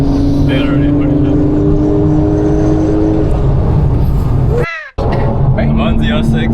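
A Chevrolet Camaro ZL1 roars at full throttle around a race track, steady loud engine drone with gear changes and a brief cutout near the end, while excited voices shout over it.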